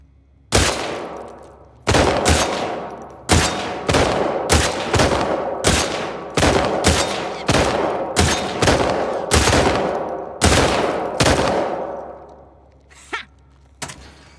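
Gunfire in a shooting competition in the video game The Last of Us Part II: about a dozen loud, sharp shots at roughly one-second intervals, each with a short decaying tail, then a couple of fainter shots.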